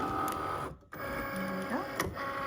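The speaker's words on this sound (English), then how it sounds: "we're gonna load it into our machine" A craft cutting machine draws a cutting mat in to load it, giving a steady motorized whir and hum with a brief pause midway, then resuming with a rising servo tone, close and moderately loud, no talk.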